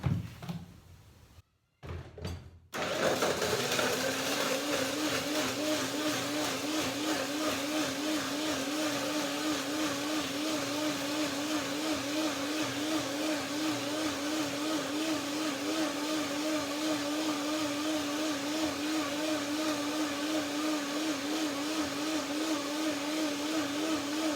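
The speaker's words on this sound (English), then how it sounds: "Put some water in there and do the blender dance." A blender whirs continuously as it purees cashews with water for cinnamon cashew cream, a steady loud motor drone with a faint wavering pitch, following a few short clunks and a brief silence at the start.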